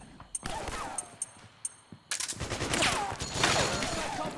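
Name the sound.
gunfire in Metal Gear Solid 4 video game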